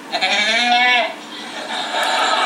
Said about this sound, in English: I don't think having a goat in the apartment is a good idea.